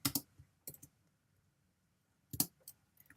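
A few short bursts of computer keyboard typing, isolated clusters of key clicks separated by quiet pauses, close and fairly soft, with no voices.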